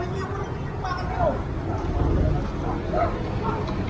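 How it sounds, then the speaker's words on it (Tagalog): A dog yips and barks a few times at a property in the Philippines, short sharp calls heard under ongoing talk and outdoor background noise. "may aso ha"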